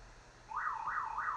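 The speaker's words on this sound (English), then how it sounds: "The alarm went off." A car alarm goes off outdoors, its warbling tone rising and falling in three steady sweeps, loud and clear over a low background rumble.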